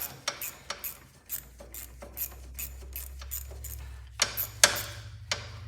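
A 7/16 ratchet wrench clicks in short uneven bursts on the back side of a Cub Cadet Cyclops Ross steering box. A low mechanical hum runs steadily underneath.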